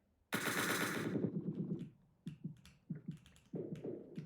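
Gunfire in the Entry Point video game, fired through a wall: a long, loud burst of rapid automatic shots opens, followed by several separate sharp single shots and short clusters, close and with no talk.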